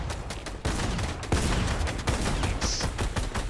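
Rapid bursts of gunfire crackle from a Fortnite battle, dense and loud, with several sharp shots standing out over continuous firing.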